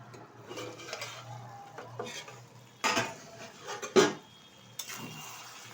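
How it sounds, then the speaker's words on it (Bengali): A metal lid being lifted off a pot of dried fish and vegetables cooking on low heat, with soft clinks and scrapes and a couple of sharper clanks, over a quiet kitchen background. "ঢাকনাটা তুলে দিচ্ছি।"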